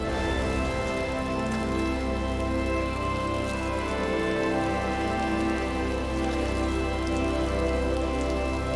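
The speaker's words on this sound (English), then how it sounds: "I think it's the rain in the game, Don." Steady rain falling in the video game Returnal, a dense continuous patter of drops hitting surfaces, loud and unbroken throughout with no voices.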